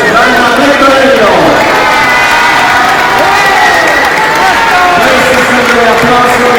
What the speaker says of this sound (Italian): Questi sono gli applausi che ci piacciono